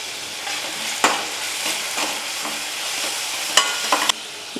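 Sliced onions with curry leaves and green chillies fry in hot oil in a pan, sizzling steadily while a spoon stirs and scrapes through them in several distinct strokes, close and alone.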